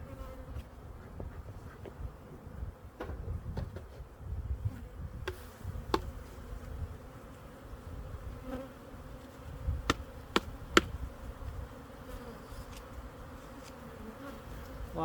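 Young nurse honey bees swarm in an opened hive during a split, their soft, continuous buzzing hum close by, with occasional sharp clicks and taps of frames and hive tools.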